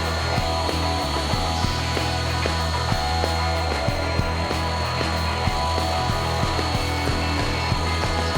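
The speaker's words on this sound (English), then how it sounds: "I take very light passes with the Roman OG bit to avoid tear out" A router table cuts wood with a Roman ogee bit on light passes, giving a steady, loud motor whine with a mechanical hum and small rattling ticks throughout. No one speaks.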